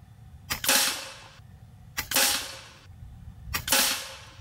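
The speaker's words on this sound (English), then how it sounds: "Another one-handed shot." Three sharp air rifle shots from an FX Impact M4 .22 pellet gun, evenly spaced about one and a half seconds apart, each a crisp close crack with a short hissing tail and no voices between them.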